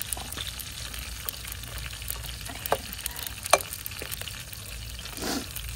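Dried fish (tuyo) fries in a pan, giving a soft, steady sizzle with scattered crackles and pops, fairly quiet and continuous, with no talking.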